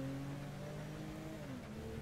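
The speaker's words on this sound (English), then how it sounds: "And Michael has his red car." A red car's engine in Grand Theft Auto 5 drones steadily, a quiet continuous hum with slight shifts in pitch, alone and without any talk.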